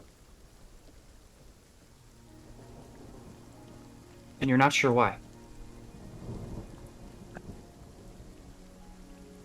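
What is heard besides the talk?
thunderstorm with rain and a crack of thunder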